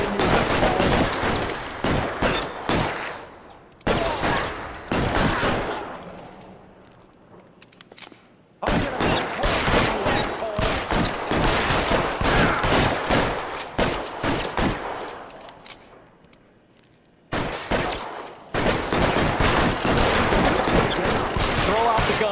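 Repeated bursts of gunfire in the video game L.A. Noire, dense volleys of shots in several loud stretches with short quiet gaps between them, voices speaking faintly underneath.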